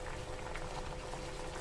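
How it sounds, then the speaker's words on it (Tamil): Tomatoes simmer in a pot of tamarind water with garlic and dried red chillies for tomato rasam, a faint, steady bubbling boil without pause. "தக்காளி நல்லா கொதிக்க விடணும்."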